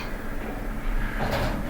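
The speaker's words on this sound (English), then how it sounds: "Doors opening." A brand-new 2022 Schindler 5500MRL hotel lift slides its doors open with a short, soft whoosh and rumble after a quiet moment, heard up close inside the car.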